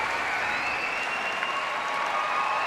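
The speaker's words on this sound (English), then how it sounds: "There she is, Olga Mikutina, delighting the home crowd here" Sustained applause from a home crowd filling an arena at a European figure skating championships after a ladies' short program performance, steady and dense throughout with no talk over it.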